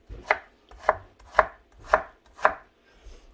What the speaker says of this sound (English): I'm just cutting this stuff up really small